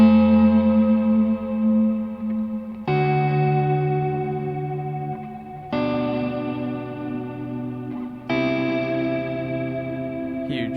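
Sustained electric guitar chords played through a large delay pedal on a studio pedalboard, four held chords each ringing out with lush repeats and reverb-like tails, changing roughly every three seconds.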